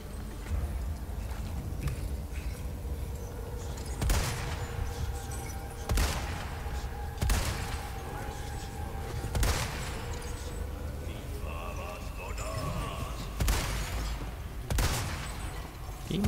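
Gunshots in the Resident Evil 4 remake ring out as about eight sharp, evenly spaced cracks over a steady rumbling game background, with faint clattering and tonal effects between shots.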